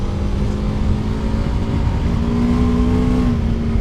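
A BMW F 450 GS adventure motorcycle engine pulls steadily under acceleration on the road. It gives a close, continuous drone whose pitch climbs gradually, buried in heavy wind rush, with no talking.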